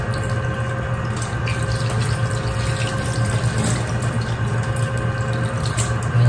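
Fish, a tuna, is washed under a running tap, with a steady stream of water splashing into a sink, constant and close, no voices.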